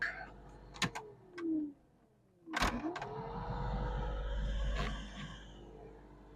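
A Ford F150 HVAC blower fan switches on and spins up into a steady whooshing drone, preceded by a few sharp clicks and a brief rising whine, with no talking.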